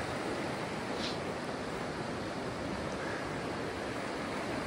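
River current flowing along a trail in East Tennessee, a continuous broadband rushing wash, steady and fairly close with no voices.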